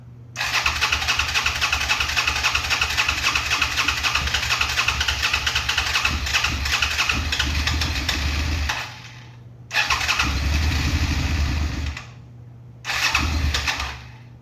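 A Suzuki SV650 motorcycle that sat for over a year starts on choke and runs with a loud, rough idle, cutting out twice and firing back up each time in short bursts.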